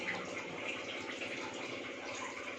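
Water is poured into a green egg curry in a pan, making a continuous close splashing gush that runs evenly from start to finish with no speech.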